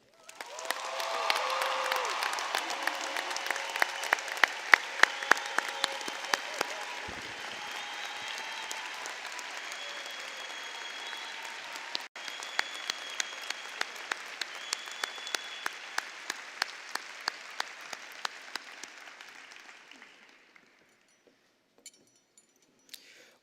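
A large crowd at a 2021 high school graduation ceremony gives sustained applause with some cheers for about twenty seconds, steady and dense before tapering off to a few scattered claps.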